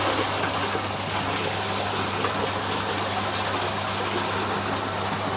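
Water rushing steadily through an arch culvert in a laboratory hydraulic flume, the channel half blocked so the flow contracts into the entrance; a continuous, close, even gushing roar with no voices.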